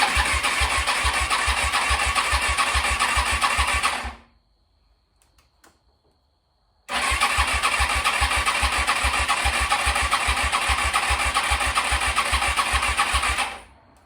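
A Suzuki SV650 motorcycle, sitting for six years with 18,620 miles, cranks with rapid rhythmic pulsing, falls silent for a few seconds, then cranks again for several more seconds before cutting out, loud and close.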